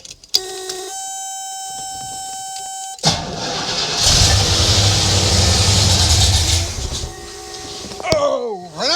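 A Cadillac 472 V8 with a freshly installed camshaft cranks after a faint whine, then catches and runs loud and rough for several seconds, with a rising and falling pitch sweep near the end.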